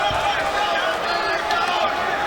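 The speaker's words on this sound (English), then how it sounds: "This crowd very pro Chris Leben." A fight crowd cheers for Chris Leben during his bout with Dakota Cochrane, a loud, dense roar of voices that holds steady throughout with no breaks.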